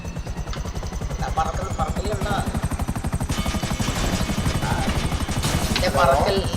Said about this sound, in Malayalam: നമുക്കൊരു മിലിറ്ററി ഗ്രേഡ് ബസാർഡ് ഹെലികോപ്റ്റർ കിട്ടും